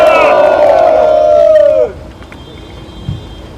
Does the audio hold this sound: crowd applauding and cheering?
yes